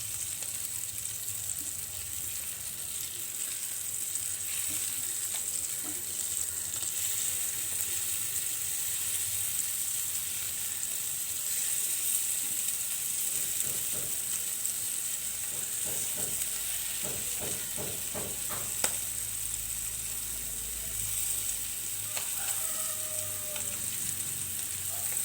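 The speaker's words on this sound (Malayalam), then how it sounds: "ഉണക്കമീനെല്ലാം നല്ലതുപോലെ ഫ്രൈ ആയി വന്നിട്ടുണ്ട്." Dry fish masala fries in a pan with a steady, even hiss and sizzle that runs unbroken for the whole stretch. A quick run of light scraping stirs sounds near the middle.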